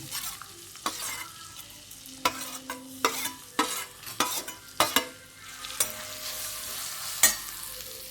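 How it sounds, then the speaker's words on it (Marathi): Fresh turmeric stir-fried in ghee in a pan, with a low background sizzle broken by repeated sharp spatula scrapes and knocks at an uneven rhythm, close and clear, with no talking. "आता तुपात ही हळद चांगली परतून घ्यायची"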